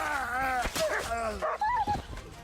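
Dogs whimper and yelp in Kingdom Come Deliverance II, their whines rising and falling over several seconds and mixed with other game sounds.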